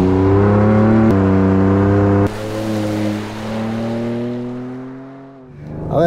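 A 2023 Ford Ranger Raptor pickup engine drones loud and close with steady harmonic tones, shifting abruptly twice as revs change, then easing off and fading before a brief rise at the end.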